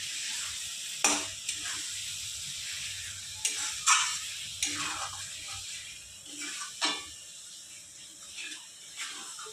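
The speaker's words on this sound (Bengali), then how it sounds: "দিয়ে ভালো করে নেড়ে চেড়ে কষিয়ে নেব।" Cumin powder, chili powder and Kashmiri chili powder sizzle in hot oil in a pan while a spatula stirs them, with repeated scraping strokes over a steady close fry, for a catfish curry.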